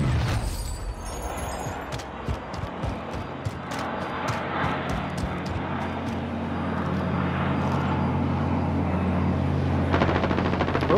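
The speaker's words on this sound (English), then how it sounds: "they're shooting at me at the window there" Video game gunfire during a house assault, with dense bursts of rapid shots and sharp cracks over a continuous engine-like rumble, close and loud, with no talking.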